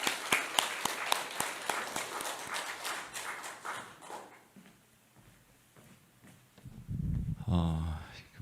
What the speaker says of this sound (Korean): 우리 박수 한번 쳐주시죠.